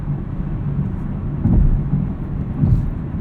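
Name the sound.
2018 Chevrolet Camaro 2SS driving, road noise over bumps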